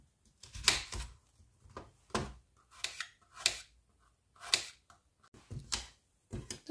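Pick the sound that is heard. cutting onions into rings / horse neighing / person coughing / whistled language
cutting onions into rings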